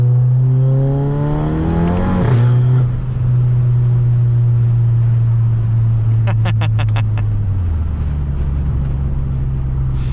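A hybrid-turbo MK7 Golf GTI accelerates hard, its engine note climbing steadily through one long pull, dropping briefly at a gear change and climbing again, loud and close from inside the cabin, with a few quick clicks near the end.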